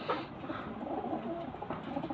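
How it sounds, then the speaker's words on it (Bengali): An ice-quality pigeon with yellow eyes coos softly and repeatedly close by, a steady low rolling call with no talk over it. "খুব কম দেখা যায় পায়রা এই দেখো"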